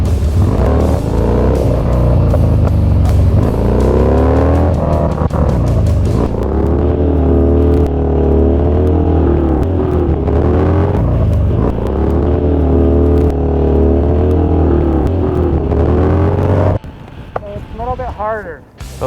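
A motorbike engine revving and pulling steadily, heard loud and close with wind rush, its pitch swelling and falling in waves, then dropping away sharply near the end, with a voice talking over it.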